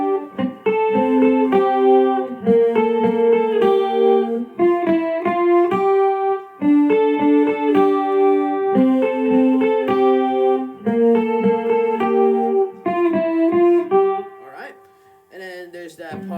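Electric guitar plays a riff on the two low strings, a steady repeating pattern of picked notes with effects, loud and alone, closing with a few looser strums.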